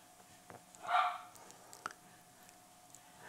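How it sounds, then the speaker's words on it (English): Dogs bark in the background, one short muffled burst of barking and a couple of faint yips in a quiet workshop setting. "Gonna have to get quiet because doggies are talking too much."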